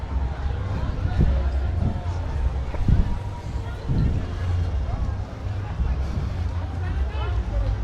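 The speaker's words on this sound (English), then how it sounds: "Please don't complain about the wind. It's 48 miles an hour." Strong gusting wind of about 48 mph buffets the microphone outdoors in Birmingham city centre on New Year's Eve, a loud steady low rumble under crowd babble and nearby talking.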